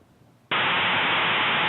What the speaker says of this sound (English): As expected, there's fairly much white noise.